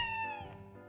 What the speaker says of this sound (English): Oh, meow. Okay, I can meow.